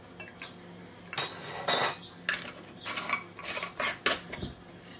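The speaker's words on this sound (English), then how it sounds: "Got my 4 jars canning lids here." Metal canning lids for square New Zealand jars being picked up and handled, giving a handful of short, bright metallic clinks and rattles spread across a few seconds, close by with no talking.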